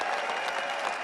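Dense, loud applause from a large crowd at the Conservative Political Action Conference, a steady wash of clapping filling the brief moment.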